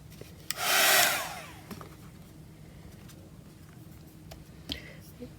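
A hair dryer briefly blows on paper artwork, a loud rushing whoosh of about a second that then cuts off, followed by quiet room tone with small clicks and taps.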